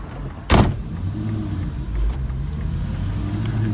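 An Aston Martin Vantage V8 starts with a sharp burst, then settles into a low, steady engine rumble nearby, with no voices over it.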